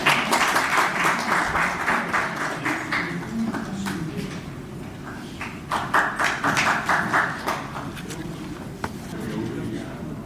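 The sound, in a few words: audience applause welcoming the speaker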